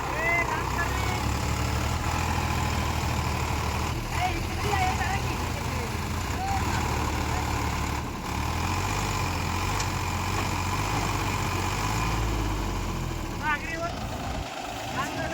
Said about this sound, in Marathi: हे पण ट्रॅक्टर अडका लागला